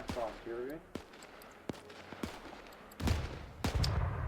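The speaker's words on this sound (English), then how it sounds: "This machine gunner firing, it looks like, at this tank." Machine gun fire in Arma 3 during a winter WWII-era battle, with sharp individual shots spaced out and then heavier bursts near the end, under intermittent speech.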